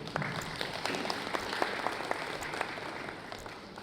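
Audience applause at the close of a business panel discussion, many hands clapping in a steady, moderately dense patter that fills the room evenly from start to finish.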